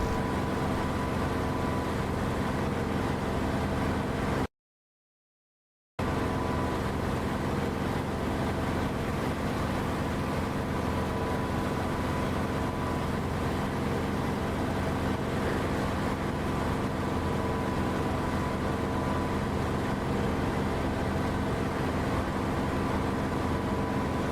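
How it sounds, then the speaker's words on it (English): An aircraft engine in the DCS flight simulator game gives a steady, even droning hum with a constant pitch. It runs without a break except for a brief dropout near the start. "I do like the engine sound to go out on the stream because it sounds nice."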